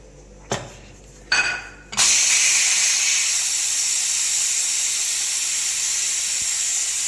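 A pressure cooker of masala khichdi vents steam after its whistles: two short bursts, then a loud, steady high hiss that carries on to the end, with no talk.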